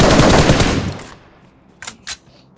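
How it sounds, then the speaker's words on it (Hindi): Rapid automatic gunfire in the BGMI battle-royale game rattles loud and close for about a second, then stops, followed by two or three sharp, more distant shots. "तो फायरिंग तो किया था तेरे को पीछे से"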